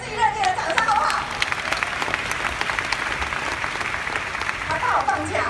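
Audience applause at a Nu Skin convention, a dense, sustained burst of clapping from a large crowd that fills the whole stretch, with a speaker's voice briefly over it.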